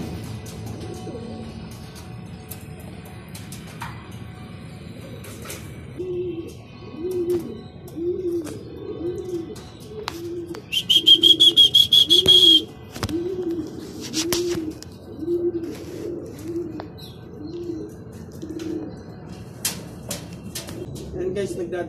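Racing pigeons landing on a loft after a training flight in Talavera, Nueva Ecija, cooing in a repeated soft rolling rhythm close by, with someone talking over them and a brief high whine partway through.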